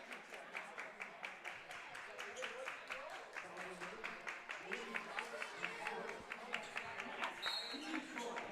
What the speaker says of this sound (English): Somebody's doing a lot of unnecessary clapping over here